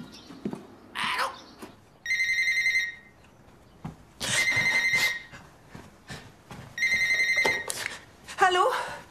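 A telephone rings for a weekly scheduled call, three bursts of a shrill trilling electronic bell spaced a couple of seconds apart, with a person speaking between and over the rings.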